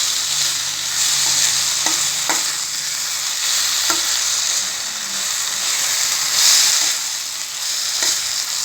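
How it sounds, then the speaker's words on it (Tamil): A varagu millet and black pepper rice mixture is stirred in a pan, with a steady sizzle and hiss under repeated scraping strokes of the spoon, close and fairly loud. "இதை நல்லா கிளறி விட்டுக்கலாம்."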